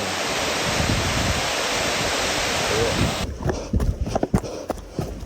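A wild waterfall beside a trail at Mt. Rainier, a dense, steady roar filling the first three seconds before giving way to closer, uneven rustling and thuds.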